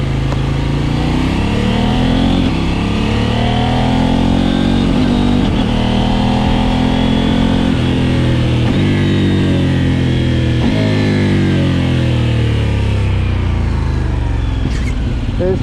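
A Kove 800X Pro motorcycle engine drones loud and close while riding on the road, its pitch rising and falling through repeated accelerations and gear changes, continuous with no talk.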